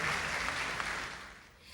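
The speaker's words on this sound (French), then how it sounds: "Merci de les applaudir." Applause at the 2009 African advertising awards gala, a soft, diffuse wash of clapping from a distant audience that gradually fades.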